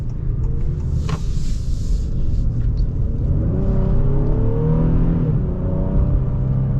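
A 2026 Honda Passport's naturally aspirated V6 pulls hard under acceleration, its engine note rising steadily in pitch from a deep rumble, heard from inside the cabin with continuous road and drivetrain noise.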